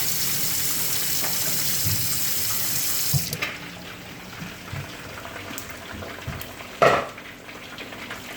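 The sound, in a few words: rice being washed under running water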